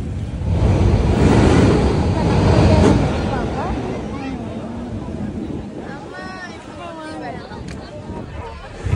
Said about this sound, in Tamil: வருது அலை. இப்போ பயங்கரமா வரும்னு நினைக்கிறேன்.